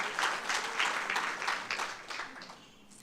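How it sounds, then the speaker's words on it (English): Audience applause at an International Mother Language Day celebration, a dense wash of many hands clapping that stays steady, then thins slightly toward the end. "Let's please give her a round of applause."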